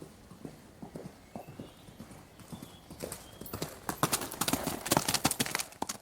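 Hooves of Samson, Prince Philip's horse, clip-clop in a steady gait, starting sparse and faint, then quickening and growing louder and denser toward the end.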